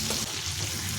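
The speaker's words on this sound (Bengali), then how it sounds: "এখন ওই পটল ভাজার তেলেই ছেড়ে দিচ্ছি হলুদ লবণ মাখানো চিংড়ি।" Shrimp rubbed with turmeric and salt sizzle in hot oil left from frying pointed gourd, a steady close crackling hiss for about a second with no talk.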